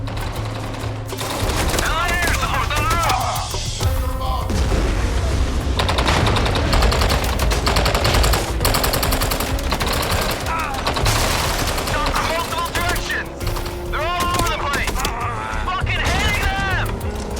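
Dense automatic gunfire and blasts fill a combat scene in the video game MindsEye, loud, rapid volleys that barely let up, with voices shouting and talking over the fighting.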